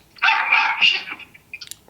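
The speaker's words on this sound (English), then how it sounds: "my wife just walked away to leave the dogs out because they're barking" Dogs barking indoors, a couple of sharp close barks early on followed by a few fainter yips toward the end, with quiet room background between.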